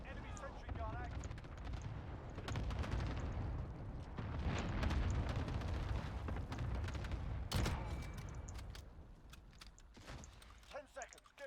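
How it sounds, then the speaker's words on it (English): Repeated heavy explosions from an enemy cluster strike in a first-person shooter video game, rumbling continuously and densely over nearly the whole stretch, with booming blasts layered over one another and a voice talking faintly underneath. "Enemy cluster strike incoming. Take cover."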